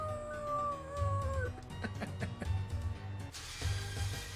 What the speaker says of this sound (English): He lets out a big old howl.